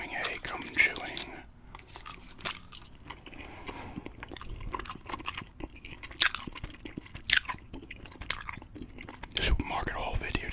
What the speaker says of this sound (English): Doing a gum chewing.